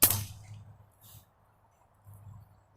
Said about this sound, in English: So I'm gonna fire it off real quick.